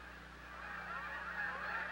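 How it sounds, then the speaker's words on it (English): A large flock of Canada geese honking continuously, many overlapping calls forming a dense, steady clamour heard from a moderate distance, with no speech. "The Canada geese spend their summers nesting near the shores of Hudson's Bay"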